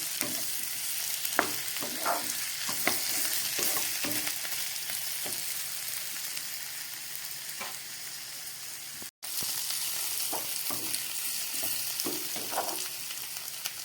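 Mixed vegetables with ripe tomato fry in a pan, giving a steady, close sizzle broken by intermittent scraping strokes of a spatula and one very brief dropout, with no talk.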